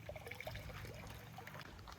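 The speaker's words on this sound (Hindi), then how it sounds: "वो मटके में से जो पानी गिर रहा है" Water trickling and dribbling from a clay pot beside a pond, a soft continuous splashing stream with small droplet plinks, faint and close.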